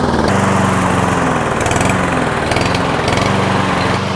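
A rough-running lawn mower engine, close and loud, idling with a buzzing drone that rises and falls in uneven surges, as if the carburetor needs cleaning, with no speech.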